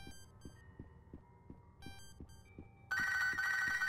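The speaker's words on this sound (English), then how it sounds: "There's a phone call at the end of a dark hallway?" A telephone in a Pokemon video game bursts into loud, steady electronic ringing after a stretch of slow, throbbing heartbeat-like pulses and sparse chime tones in a dark hallway scene.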